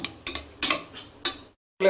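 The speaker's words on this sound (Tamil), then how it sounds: "அந்த எண்ணெயிலேயே வணங்குற மாதிரி நல்லா புரட்டிக்கலாம்" Drumsticks being stirred and turned in masala and oil in a pan for a Tamil jackfruit-seed and dried-fish curry, three or four quick scraping, sizzling strokes close by, then a short pause before another.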